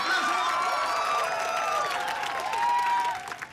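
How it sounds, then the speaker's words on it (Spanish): Studio audience at a TV game show of strongmen versus strongwomen bursts into applause mixed with excited whoops and cheers, a lively crowd sound that carries steadily before thinning at the end. "¡Aplausos!"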